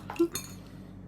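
A spoon clinks once against a dish while shellfish are opened and eaten, a short, bright, close metallic tap followed by a softer knock.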